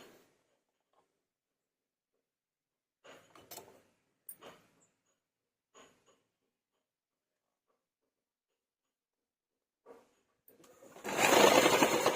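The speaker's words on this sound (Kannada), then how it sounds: "ಈ ರೀತಿ ಒಂದು ಸ್ಟಿಚ್ ಮಾಡ್ಕೊಳ್ಳಿ ಫಸ್ಟ್" A sewing machine stitching a kurti neckline comes in near the end as a loud, close, steady mechanical whir, after several seconds of near silence broken only by a few soft handling taps.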